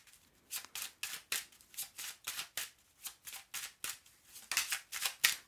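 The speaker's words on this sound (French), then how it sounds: "tirage à 13 cartes" Oracle cards for a thirteen-card spread being shuffled and drawn, a steady run of about a dozen crisp papery riffles and flicks in a regular rhythm, close and fairly quiet, with no speech.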